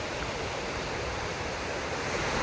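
White water rushes through the narrow Savage River near a trail bridge in Denali, a dense, steady roar of broadband noise, close and continuous with no voices.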